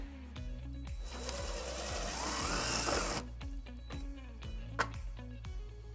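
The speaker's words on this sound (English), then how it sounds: "we're going to drill our first hole" Drill boring a bracket hole during trailer wiring harness installation on a 1998 Infiniti QX4, a whining burst of a couple of seconds between rhythmic mechanical ticking, fairly close.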